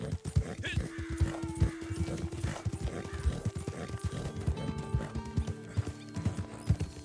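Horse hooves clip-clop in quick, steady galloping beats with a whinny early on, in the Western video game Red Dead Online, close and busy with other game sounds layered in.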